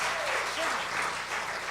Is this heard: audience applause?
yes